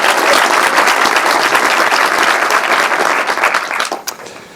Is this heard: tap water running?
no